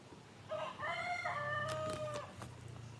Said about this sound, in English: Please don't mind that rooster.